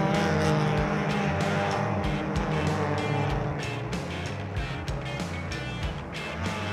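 A B-Spec class race car spins out on the Road America circuit during an SCCA Runoffs race, its engine droning loudly and steadily with a few brief tire chirps and cars passing nearby.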